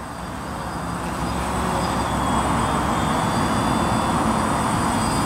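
A DJI Phantom FC40 quadcopter descends slowly, a steady broadband whirring and rushing drone that stays fairly loud and constant, with no talk over it.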